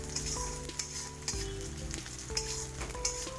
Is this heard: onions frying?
yes